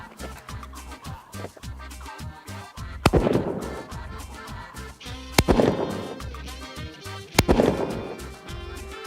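Rifle fire aimed at a white rock target about 200 yards out in open country: three sharp, loud reports roughly two seconds apart, each cutting through a low rumbling background.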